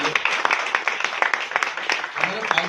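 An audience at a motivational talk claps, a dense run of hand claps going on continuously while someone speaks over the applause.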